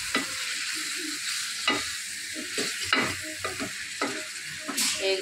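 Food fries in a pan with a constant close sizzle, while a utensil stirs and scrapes in repeated strokes over it.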